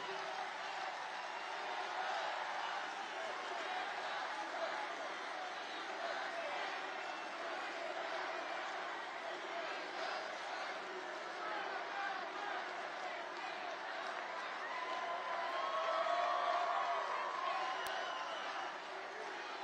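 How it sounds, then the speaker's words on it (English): A large rally crowd in West Palm Beach fills the air with a faint, steady wash of cheering and chatter that swells slightly near the end. "It's a big crowd of people."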